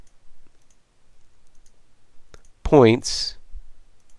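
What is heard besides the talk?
computer mouse clicks placing points with pen tool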